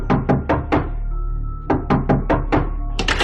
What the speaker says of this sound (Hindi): बाहर दरवाजे पर हो रही थी दस्तक।